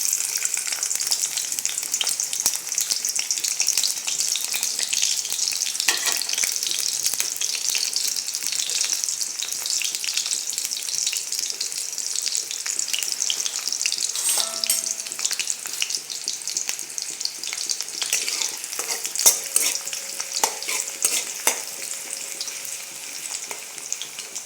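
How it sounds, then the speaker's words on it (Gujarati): Onion slices fry in hot oil in a kadai with a continuous, close hiss and sizzle, broken now and then by a clink or scrape of stirring. "તેલ થોડુંક ગરમ થાય એટલે આપણે ડુંગળીની સ્લાઈસ નાખીશું થોડી."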